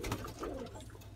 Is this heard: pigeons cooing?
yes